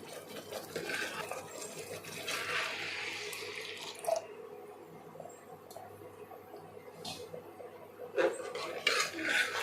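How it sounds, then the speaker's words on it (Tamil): Coconut milk poured into a pot of moong dal payasam, a soft, steady liquid trickle and splash close by, with faint utensil scrapes and small knocks, no talk. "இப்போ நம்ம தேங்காய் பால் ஊற்றலாம்"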